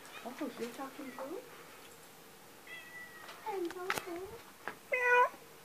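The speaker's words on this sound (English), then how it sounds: "I hear you meowing." Several shelter cats at a humane society meow in a series of clear, close calls, some long and drawn out, with someone talking to them softly between the meows.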